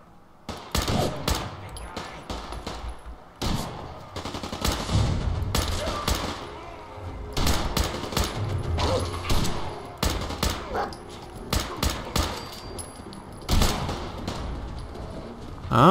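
Gunfire crackles in a Fallout 4 fight against gunners, with repeated bursts of shots at mid distance in a busy game soundscape, spread across the whole stretch.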